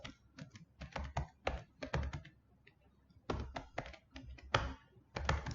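Fingers type code on a computer keyboard in quick bursts of close, crisp key clicks, with short pauses between flurries and no talking.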